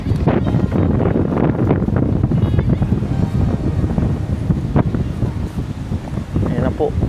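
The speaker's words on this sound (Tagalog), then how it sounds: "Pakalakas ng hangin." Strong wind buffets the microphone in a continuous loud roar, with people talking faintly underneath.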